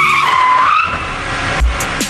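A car brakes hard as its tires screech and skid across the road surface, a loud, sustained squeal that ends in a low thump.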